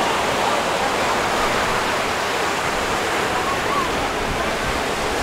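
Ocean waves at the beach in Ocean City, New Jersey, a loud, steady wash of surf and spray filling the whole stretch with no clear breaks.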